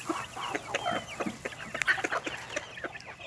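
Several meat chickens cluck and chatter close by in quick, irregular bursts over faint outdoor background noise.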